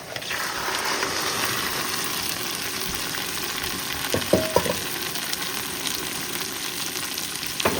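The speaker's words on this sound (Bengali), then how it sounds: "পেঁয়াজ আদা রসুন হালকা ভাজা হয়ে গেছে, এবার দিয়ে দেবো কাঁকড়া।" Crab is added to onion, ginger and garlic frying in a pan, making a continuous, close sizzle with several sharp stirring clacks near the end.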